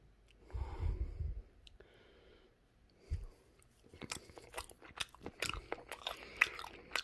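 Yellowtail sashimi being bitten and chewed close to the microphone, with soft crunchy, wet mouth sounds in irregular bursts that grow busier toward the end, mixed with audible breathing through the nose.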